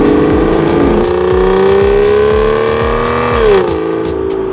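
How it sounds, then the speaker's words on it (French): An Aston Martin Virage, close to 500 horsepower, revs hard under acceleration, its engine note climbing steadily, dipping briefly at a gear change, then pulling on, loud and close with no voices. "Dès qu'on appuie sur l'accélérateur, le moteur sait nous rappeler qu'on approche des 500 chevaux sous le pied droit."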